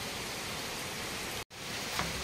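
Heavy rain pours down as a steady, dense hiss filling the whole scene. It breaks off for a brief instant, then resumes just as strongly.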